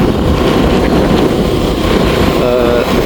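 A mild breeze blowing outdoors in Jaffna after a storm buffets the microphone with a steady, loud, low rushing noise lasting about three seconds.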